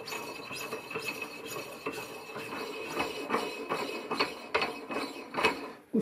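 A nut being threaded onto a car coilover, giving a continuous stream of light metallic clicks and scraping ticks, close up and steady, with no voices.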